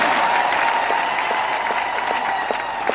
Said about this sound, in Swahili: Pigia gavana makofi.